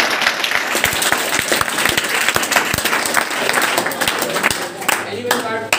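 Seminar audience at a school in Jaipur claps for a child, a fairly loud mix of crowd applause and a few sharp individual claps, tapering near the end with a voice briefly audible.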